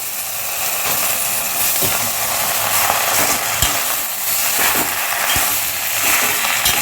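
Kharkol leaves fry whole in a pan of oil with garlic and chili, a continuous close sizzle and hiss, punctuated now and then by sharp pops and light utensil clicks.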